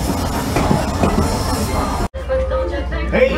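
A Strasburg steam train rumbles along the rails with a heavy, continuous roar, then the sound cuts and a quieter rolling hum continues with faint squeals.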